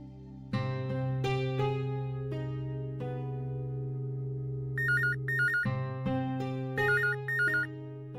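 A mobile phone rings on and on without being picked up, a repeating electronic melody with bright trilling beeps, clear and fairly close, playing by itself with no talk.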